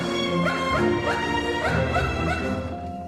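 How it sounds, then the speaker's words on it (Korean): A police dog at an airport barks and yips repeatedly in a quick, excited series, close and clear over a steady background hum. "공항에서 경찰견이 짖는다면 이유야 뻔하겠죠."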